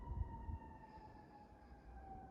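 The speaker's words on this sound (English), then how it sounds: "as we hear the sirens fading in the background" A distant siren wails with a steady, slowly dipping tone over low rumbling background noise, faint and far off.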